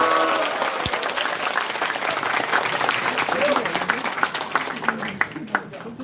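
A crowd applauds to welcome a speaker at a regional party members' rally in Eunpyeong, a continuous patter of clapping while an announcer talks over it through a sound system.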